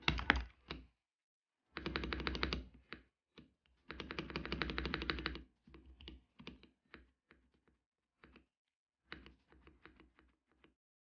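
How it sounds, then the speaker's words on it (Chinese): Typing on a Xinmeng X98 mechanical keyboard fitted with linear switches gives quiet, close bursts of rapid clacking keystrokes, broken up by pauses and scattered single key presses. "这里换成线性轴给大家听一下声音。"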